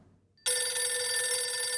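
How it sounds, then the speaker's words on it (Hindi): A telephone rings in a government dispensary in a TV drama, starting abruptly after near silence with a loud, steady, bright bell tone that continues to the end. "घर से फोन।"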